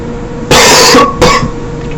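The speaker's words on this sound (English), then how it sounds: "Ignore the coughing." Two sharp, loud coughs from one person close by, a longer one followed by a shorter one a moment later, against a quiet background.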